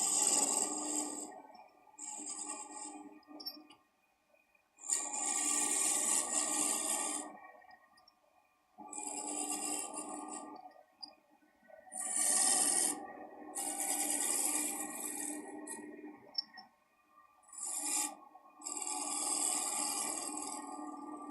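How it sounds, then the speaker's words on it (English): A metal lathe cuts a fountain pen blank in repeated rasping passes, each burst several seconds long and separated by short quiet gaps, close and fairly loud with no talking. "what I'm doing right now with the metal lathe"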